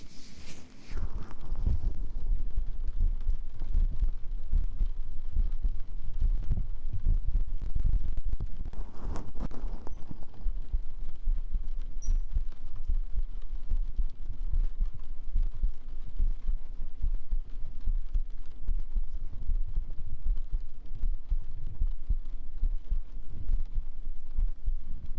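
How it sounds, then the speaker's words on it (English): ASMR heartbeat recorded in a live relaxation session: soft, low thumps repeat steadily for the full stretch under a constant muffled hum, with brief louder rustles near the start and again around the middle, and no talking. "I'll do some heartbeats for you guys."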